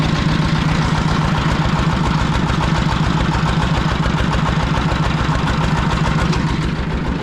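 A Fighter T-20 walk-behind motor tractor, fitted with a widened 1.2 m hiller for furrows, runs loud and close with a steady, rapid thumping engine beat throughout, no talk.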